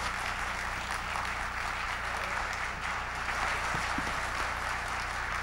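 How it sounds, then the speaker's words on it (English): Audience applause after a line in a keynote speech at a large leadership conference, a dense, steady wash of clapping that holds at an even level throughout with no voices over it. "Give yourselves a round of applause."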